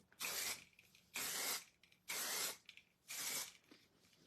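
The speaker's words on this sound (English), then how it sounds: "we're gonna spray Twa Chic 3-way hairspray" Four evenly spaced hissing bursts of Twa Chic 3-way hairspray from an aerosol can, each about half a second long with short pauses between, close and fairly soft, with no talking.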